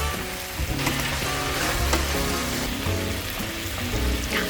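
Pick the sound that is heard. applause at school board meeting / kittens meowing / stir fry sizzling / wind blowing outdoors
stir fry sizzling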